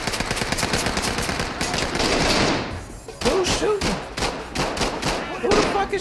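Rapid, loud gunfire bursts in the tactical shooter Ready or Not, with dense automatic volleys and heavy thuds at close range, while players talk over the shooting.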